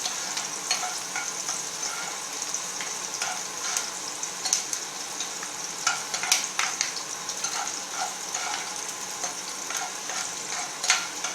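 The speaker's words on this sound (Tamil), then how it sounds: "கொஞ்சம் நல்லா வதக்கிடுவோம்." Chilli sautéing in a pan for egg kulambu, a steady bright sizzle with scattered crackles and pops, close and continuous with no voices.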